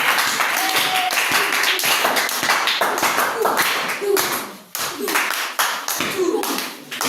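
An audience at a young talent show in Mbuji-Mayi claps and cheers loudly for a performer coming up, dense continuous applause with brief dips, with voices mixed into the crowd noise.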